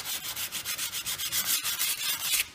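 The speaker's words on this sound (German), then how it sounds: "ich schleife das jetzt hier alles mal runter. Das dauert jetzt ein bisschen, weil ich das mit der Hand mache." Steady rhythmic rasping of sandpaper scrubbed back and forth by hand on a metal bumper bracket of a Honda Accord 2.2, about six strokes per second, close and loud with no voices.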